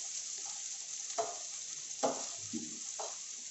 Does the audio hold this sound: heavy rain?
no